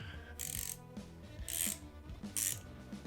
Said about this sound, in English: You can use a ratchet wrench.